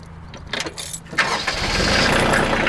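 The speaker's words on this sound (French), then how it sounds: "je vais partir le tracteur, on vire idle" A tractor engine, a Kioti CX2510 TLB, cranks with a few sputtering turns, then catches and settles into a loud, steady rumble up close.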